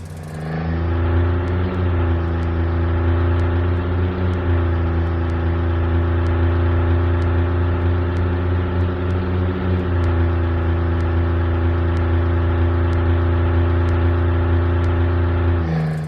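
Synthesized car engine built in Unreal MetaSound, a steady harmonic drone that rises in pitch as it accelerates, with a brief dip around the middle, loud and continuous with no talk.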